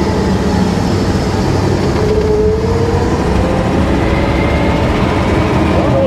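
A 1955 Chevy Nomad with a failed transmission creeps along in first gear, giving a loud, steady rumbling drone with road noise and a faint rising whine, heard from inside the car.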